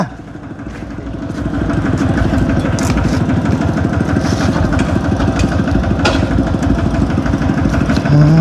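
A motorcycle engine runs steadily and loud at close range on a rough rural track, with a dense low rumbling throb that builds in the first couple of seconds and holds level, with a brief higher tone near the end.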